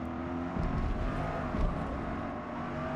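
A 2024 Corvette E-Ray C8 driven on the Nürburgring GP circuit in Forza Motorsport 8, a steady droning engine and road roar with slight swells, continuous and mid-level.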